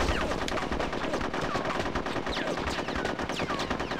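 Rapid automatic gunfire from the video game Conker's Bad Fur Day, a dense, unbroken rattle of shots with ricochet whines, loud and continuous throughout with no pauses.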